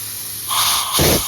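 Compressed air from a John Deere C175 diesel tow-behind portable air compressor bursts out in two loud, close hissing blasts, the second one stronger and lower.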